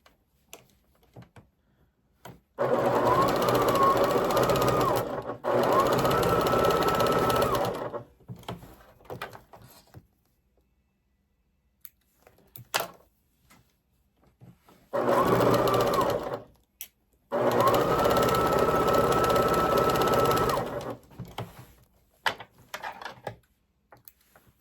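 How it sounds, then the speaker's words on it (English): A sewing machine stitches a hearts-and-cross valentine quilt in two long, loud runs of rapid, even needle chatter, separated by quiet stretches with small handling clicks. "and then sew."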